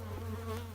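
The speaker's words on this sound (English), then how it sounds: "We definitely need to get some of these bees into this hive" Honeybees swarm and drone steadily around a weak beehive being worked by a beekeeper, a close, continuous buzzing hum with no voices over it.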